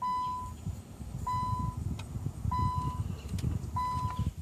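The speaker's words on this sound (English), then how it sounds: "make sure we get our dings to let us know that we have my phone charging" Inside a 2001 Nissan Sentra, a repeated electronic chime sounds four times at an even pace, each a short clear tone about a second apart, over low engine or cabin rumble.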